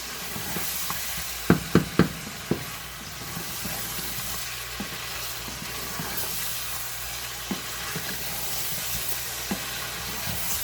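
Raw, unboiled potatoes frying in oil for Sindhi chicken biryani, with a steady soft sizzle throughout and a few sharp clinks of a utensil against the pan near the start.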